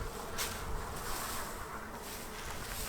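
Western honeybees feed on sugar at a hive opened for its first check of the year, a soft continuous buzz with faint swells throughout, no talking.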